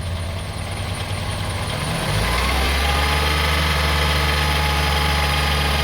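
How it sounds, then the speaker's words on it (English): A car engine idles, then at about two seconds the gas pedal is pressed and it revs up into a louder, deeper sustained roar that holds steady, heard up close. "Now we're gonna press some gas, accelerate"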